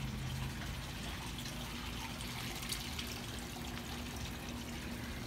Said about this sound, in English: So now the water is really getting high.